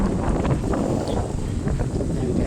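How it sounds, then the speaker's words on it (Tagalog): Steady wind blows across the microphone on a fishing trip out on the water, a constant broadband rush with no clear pauses. "Ang sarap ng hangin, hindi siya hindi siya mainit."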